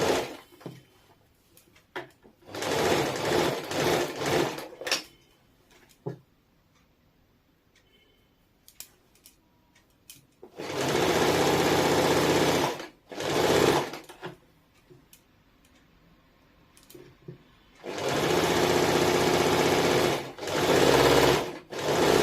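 A sewing machine runs double stitching along a palazzo seam in three loud bursts of steady whirring, separated by pauses with faint handling sounds and no talking.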